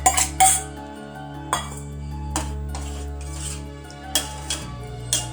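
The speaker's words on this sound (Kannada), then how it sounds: "ಬೇಯಿಸಿದ ಹೆಸರು ಬೇಳೆ ಹಾಕ್ತೇನೆ." Cooked moong dal added to a metal pot on a gas stove, heard as clanks and scrapes of a spoon against the vessel, a few sharp knocks spaced irregularly over a low kitchen hum.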